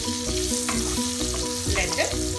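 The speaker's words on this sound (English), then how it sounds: "Our oil is nicely heated up, so we are going to fry the boiled potato or aloo" Boiled potatoes fry in hot oil with a steady, close sizzle and a few stirring scrapes, running under sustained tonal background music.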